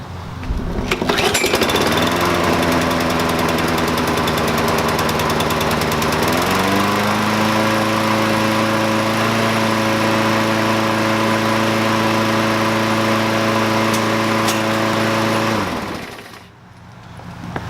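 A push lawn mower engine, choke set and throttle linkage newly hooked up after maintenance, catches and runs loud and steady close by for about fourteen seconds, holding an even drone before cutting off abruptly.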